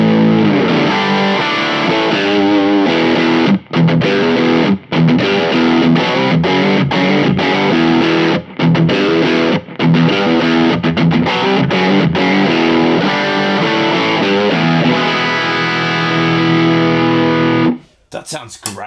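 Bogner Shiva guitar amp with the lead boost engaged, played through a Fender Modern Jazzmaster: loud, thick distorted electric guitar riffing with brief gaps between phrases, close and continuous before cutting off near the end.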